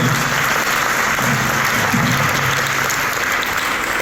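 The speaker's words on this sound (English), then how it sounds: "Can we have a big round of applause for him?" A big round of applause for Reverend Brother Joseph at the Little Flowers School awards, loud sustained clapping from a large crowd, dense and continuous throughout.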